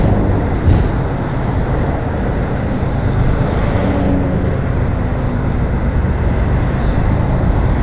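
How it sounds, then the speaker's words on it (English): A CN eastbound freight train led by locomotive 2840 approaches along the line near London East Yard, a steady low rumble with a roaring, continuous engine drone throughout. "we got a CN eastbound train coming down the line."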